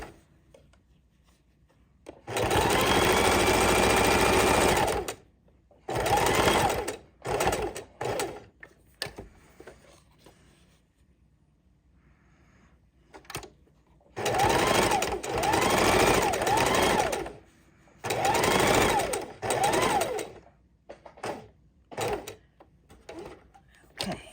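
A sewing machine stitches lace trim onto a junk journal cover with white thread, running in loud, steady whirring bursts of a few seconds each, separated by quiet pauses and brief stop-start runs.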